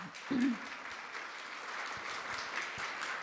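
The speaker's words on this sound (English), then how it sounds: "We might invite a round of applause and thanks to Parker." Audience applause at a public conversation event, a steady wash of clapping from a crowd heard at moderate distance, with a brief voice near the start.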